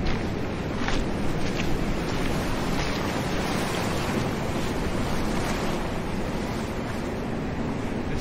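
Sea waves breaking continuously on a North Cornwall shore, a steady broad roar of surf with wind buffeting the microphone, no voices.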